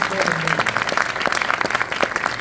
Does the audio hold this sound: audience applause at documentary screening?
yes